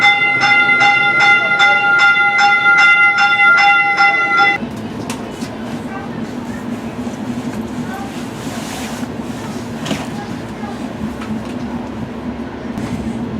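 A new Stadler O-Train Line 2 train opens with a chime or horn tone of stacked pitches, then gives way to a steady low rumble of the train running, continuous and close from inside the car.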